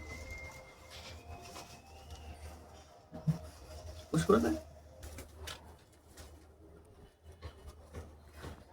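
Bazi, Kala Sabuj and Kaldoma pet pigeons coo softly at close range, a few low murmuring calls rising around the middle, with a person talking over them.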